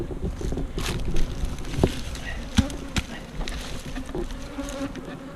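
Honeybees buzz around their hives in March, a soft, continuous hum close by with a few sharper passes of individual bees flying near, and no talking over it.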